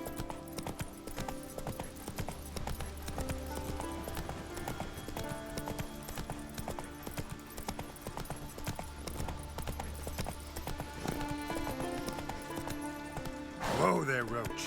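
Roach the horse gallops in The Witcher video game, with quick rhythmic clip-clopping hooves over a steady game backdrop, a brief whinny near the end, and a voice speaking over it.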